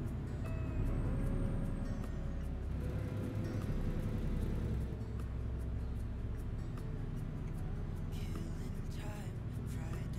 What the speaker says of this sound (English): this Creech Bomb Detroit Diesel sounds amazing